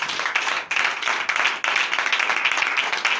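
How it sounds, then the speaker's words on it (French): A church congregation applauding during a Sunday worship service in Benin, loud, close, energetic clapping with brief dips in rhythm, rising in waves and continuing without speech. "Donnez encore l'acclamation à Jésus."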